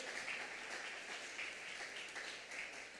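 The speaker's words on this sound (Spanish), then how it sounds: "Vamos, dele un aplauso a Dios." A church congregation applauds God during a sermon, producing a soft, steady patter of many hands clapping at a distance, fairly faint and without talk over it.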